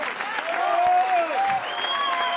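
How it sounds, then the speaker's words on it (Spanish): A festival crowd at a Peruvian cajón festival bursts into steady, dense applause, loud and close, with a host's voice and musical tones sounding over the clapping. "Fuerte el aplauso para él"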